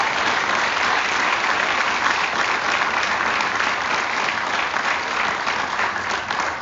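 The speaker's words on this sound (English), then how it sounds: "Please give all these students a well-deserved round of applause." A high school awards-night audience gives students a sustained round of applause, a dense, even wash of many hands clapping at full strength throughout, with no talking over it.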